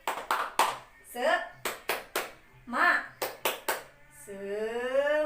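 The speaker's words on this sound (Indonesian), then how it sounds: "kita tepuk-tepukan dulu Ibu yuk. Iya, tepuk semangat" Short rhythmic bursts of hand clapping in a patterned encouragement clap during a prenatal health session, alternating with a voice and ending in a sustained sung or drawn-out call, close and clear.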